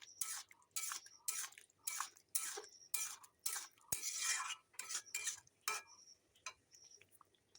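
Food stirred in a pan after raw oil is drizzled over aloo posto, a spoon scraping and clicking against the metal in quick regular bursts with short pauses, close and fairly quiet, no voices.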